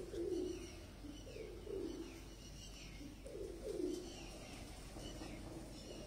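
A champion pigeon coos in soft, repeated low throaty phrases at close range, with quiet background ambience and faint bird chirps.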